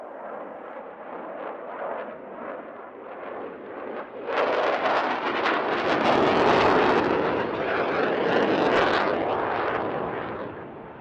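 A Dassault Mirage 2000 jet fighter at the Paris-Villaroche airshow roars past, its rumble building from a distant hiss into a loud, broad jet blast that holds, then slowly eases.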